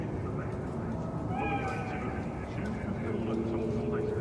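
A cat meows in the Cyberpunk 2077 video game, a few short wavering calls heard beneath voices and a dense, steady ambient hum.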